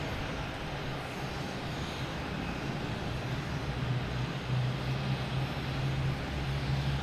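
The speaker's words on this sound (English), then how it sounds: "Next takeoff is Delta heading to LaGuardia," A Delta Embraer E175 jet takes off at Boston Logan, heard as a steady, broad engine roar with a low rumble that builds slightly toward the end, distant and continuous with no voices.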